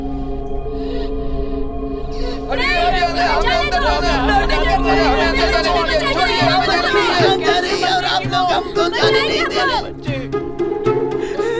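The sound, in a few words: crowd of onlookers chattering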